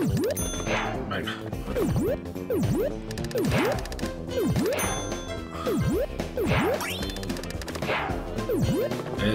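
Repeated bright bell dings from the bonus stage of the video game Pac-Man World Re-Pac, ringing in a steady rhythm over busy game music.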